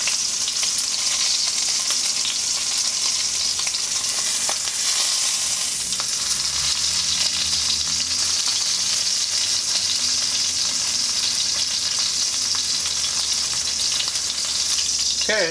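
Ribeye steak fat sears in olive oil in a cast iron skillet, giving a steady, loud sizzle and crackle that runs unbroken for the whole stretch with no talking.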